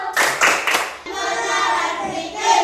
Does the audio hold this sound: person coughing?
no